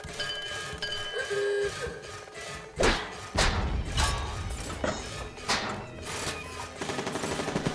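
Gatling gun fire in the game On the Rain-Slick Precipice of Darkness, Episode One: heavy booming thuds and rapid rattling bursts, loud and close, amid game effects.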